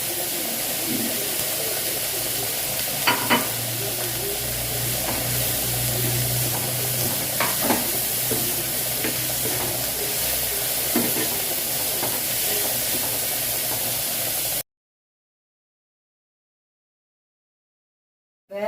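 Onions sautéing in a pan with fried mustard and fennel seeds, giving a steady close sizzle with occasional stirring clicks, ending in a sudden cut to silence.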